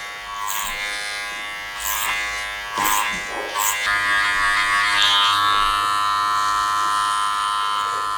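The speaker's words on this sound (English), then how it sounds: "Use my clippers now to taper that in a bit more" Electric hair clippers tapering a haircut buzz steadily at close range, with brief louder bursts early on as the blades meet hair, then a continuous even hum.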